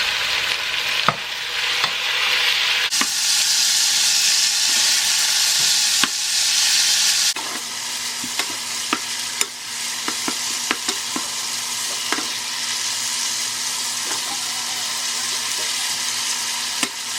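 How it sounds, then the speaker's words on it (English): Thin-sliced beef stir-fried in vegetable oil in a heated pot crackles in a steady, loud sizzle, with occasional utensil clicks and scrapes as the meat is stirred. "To my heated pot, I added some vegetable oil, and we're gonna go ahead and stir fry the beef."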